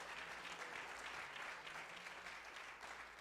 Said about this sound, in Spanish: pueden aplaudirlo con ganas